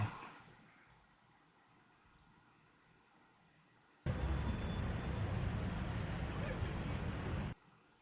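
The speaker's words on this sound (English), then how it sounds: "sound effects, life on planet Earth, indoors, urban, bus station, busy." Low indoor murmur of distant chatter and clicks at a busy urban indoor bus station, then a loud, dense wash of crowd noise and station bustle swells for a few seconds before dropping back.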